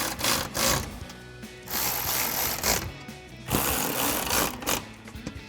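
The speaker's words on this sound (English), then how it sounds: "I'm going to take my electric ratchet here with a 6mm on it and tighten these up" An electric ratchet with a 6mm socket tightens bolts on a Jeep Wrangler JL rear storage cover, giving several short bursts of whirring, clicking motor noise close by, with brief pauses between.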